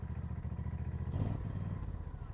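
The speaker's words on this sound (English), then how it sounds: "Foot on the brake, bit of choke, and turn the key." A Stiga Park Pro 18 ride-on mower engine turns over and catches, then runs with a steady low, pulsing drone that briefly swells before settling, heard close and fairly quiet with no talk.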